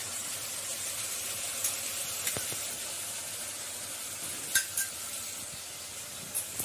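Spice paste of fennel, cumin, coriander, ginger and garam masala frying with boal fish as it is stirred, a soft, steady hiss with a few faint clinks of the spoon against the pan.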